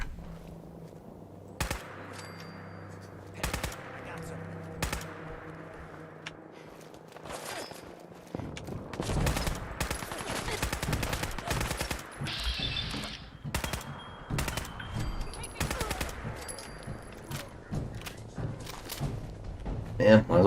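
Gunners open fire in Fallout 4 near the Bunker Hill bridge: scattered single shots and rapid bursts of gunfire, some near and sharp, others thudding, over a low background.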